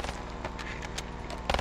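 Rapid gunfire from a video game, a dense run of shots fired one after another at moderate level, with a louder burst near the end.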